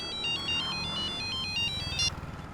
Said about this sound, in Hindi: उसकी फोन कॉल आ रही है।